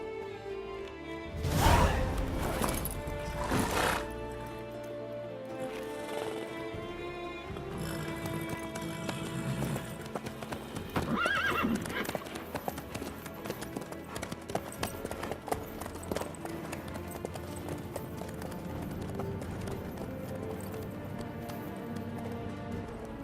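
Horse hooves clip-clop in a steady galloping rhythm on a road in The Witcher 3 video game, continuous and fairly close, with a brief whinny and occasional whooshes mixed in, and no speech.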